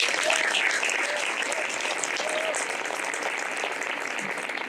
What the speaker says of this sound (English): Let's give a round of applause for Mr. Hogan